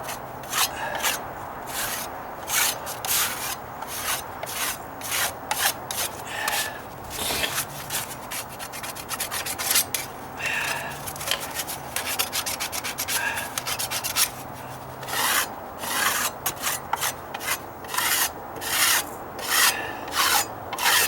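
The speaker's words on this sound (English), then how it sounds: "I can slightly scrape some of it off" A tool scrapes dry-rotted residue off a wooden deck stair in rapid rasping strokes, with repeated rhythmic bursts and brief pauses, close by and with no talking.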